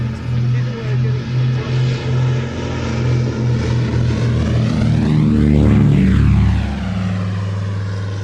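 An airshow aircraft aborts its landing and makes a low pass, its loud propeller engine droning with a pulsing beat and then sweeping by close overhead with a clear pitch shift before fading.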